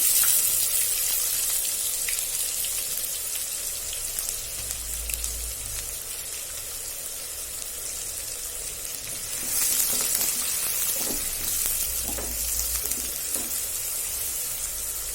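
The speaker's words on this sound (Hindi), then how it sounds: "शुरू में इसे फुल फ्लेम पर ही फ्राई करेंगे" Finely chopped onions fry in a pan over a full gas flame, a steady close sizzle with faint stirring scrapes and clinks partway through.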